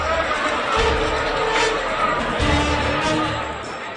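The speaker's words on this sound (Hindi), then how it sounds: "मगर बांद्रा टर्मिनस पर भीड़ का इकट्ठा होना सुबह 9 बजे से ही शुरू हो गया।" A large crowd of migrant workers gathered at Bandra Terminus in Mumbai makes a dense, steady roar of many voices, loud and close, swelling slightly midway before easing off.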